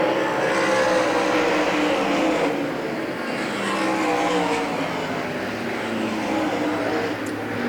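Race cars roar through the final lap at Hagerstown Speedway, a dense, continuous engine drone with swelling passes, loud and sustained throughout with no talk over it.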